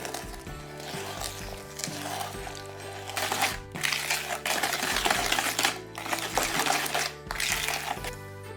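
A dairy-free, egg-free cake batter being mixed again after milk and almond essence are added. A steady mechanical whir carries throughout with busy clattering and sloshing on top, and it swells and dips a few times.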